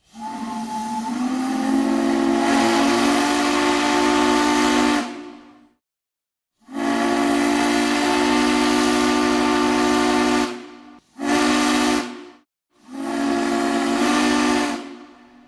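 The three-chime steam whistle of NC&STL 576, a restored steam locomotive on its first steam test, sounds in four loud blasts: two long sustained chords, a short toot, then another long blast, with steam hiss behind.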